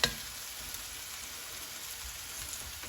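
Flour-dredged chicken fries in a pot, giving a faint, steady sizzle and crackle with no talk.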